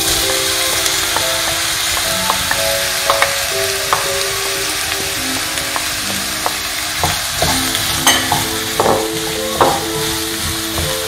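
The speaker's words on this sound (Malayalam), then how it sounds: "എണ്ണ ചൂടായി വന്നാൽ അതിലേക്ക് ഉള്ളിയിട്ട് വഴറ്റി കൊടുക്കാം." Onions sauté in hot oil in a pan, giving a continuous close sizzle and hiss, with scattered stirring clinks and spatula scrapes throughout.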